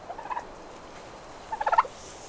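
A chicken digging in a garden compost pile gives two short bursts of clucking, the second a quick run of four or five notes, over faint outdoor background.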